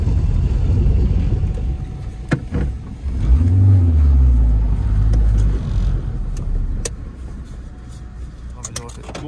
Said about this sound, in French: Quand on la démarre, on entend l'intérieur du catalyseur qui est pété.